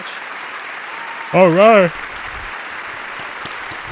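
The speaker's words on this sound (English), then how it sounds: "I don't know what we're clapping for." An audience claps steadily during a presidential speech to Congress, a continuous wash of applause under which someone briefly speaks.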